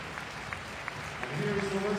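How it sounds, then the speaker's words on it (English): An arena crowd applauds Fenerbahce's basketball team at a EuroLeague third-place game, with steady clapping throughout and an announcer's voice coming in over the last part. "Now please give a big round of applause for Team"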